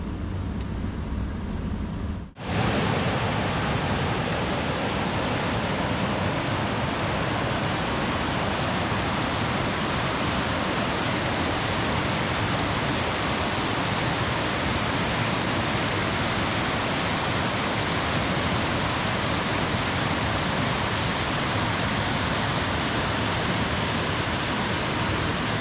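Rattling Creek rushing past Pee Wee Cave, a steady, dense stream of flowing water close by, loud and unbroken for the whole stretch after a brief quieter moment at the start.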